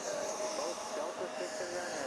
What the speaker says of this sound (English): So we got these 3 little loud Deltas